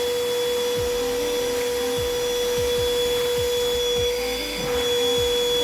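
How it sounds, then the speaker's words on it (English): An Ozito 18V wet and dry vacuum cleaner runs steadily and loudly with a constant motor whine and airflow roar, with no speech over it. "And so with this vacuum cleaner here, it actually has a little bit of a 2-in-1 function."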